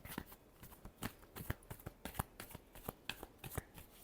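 Tarot cards riffled and shuffled during a reading, a rapid run of crisp papery flicks and slaps in uneven bursts over about four seconds, close and moderately loud with no voices.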